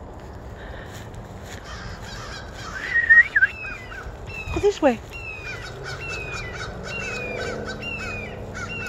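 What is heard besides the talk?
crows cawing near a creek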